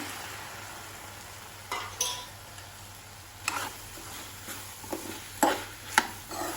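Gobi manchurian cooks in a pan with a cornflour slurry, a low steady sizzle broken by irregular scraping bursts as it is stirred, some of them sharp and close.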